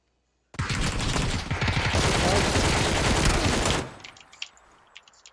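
Gunfire in PlayerUnknown's Battlegrounds, a loud dense burst of rapid shots rattling for about three seconds, then a few scattered fainter pops as it dies away.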